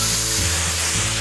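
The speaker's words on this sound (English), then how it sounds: "I'll spray the black back on." Black spray paint hisses from a spray gun onto a toy garage, one short continuous burst with a slight change partway through.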